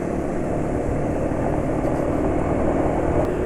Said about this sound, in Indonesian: suara mesin masih lumayan halus ya